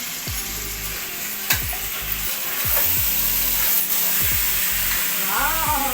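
Chicken leg pieces are stirred into biryani in a pot, with repeated scraping and clunking strokes of a spoon against the pot over a steady frying sizzle. A brief voice comes in near the end.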